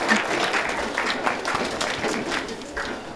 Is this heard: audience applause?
yes